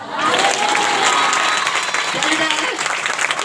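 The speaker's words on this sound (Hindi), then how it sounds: "ताली बजाओ ना" Sustained applause from a congregation during a Hindi Christian sermon, steady dense clapping filling the room at fairly loud level, with some crowd voices mixed in.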